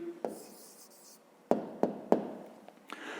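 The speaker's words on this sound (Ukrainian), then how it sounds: "Записуємо тоді відповідь." A pen or pencil writes a math answer on paper, making several short, sharp taps and scratchy strokes, close and fairly quiet, spaced irregularly across a few seconds.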